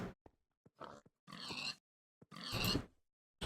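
Pig grunts and snorts from Minecraft, modded Agrarian Skies pack, come in several short bursts with gaps between them, fairly quiet and with no talking.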